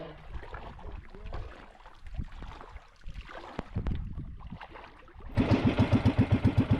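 A fishing boat engine starts up and runs near the end, a loud rhythmic thumping idle that follows several seconds of quieter mixed sounds and murmuring.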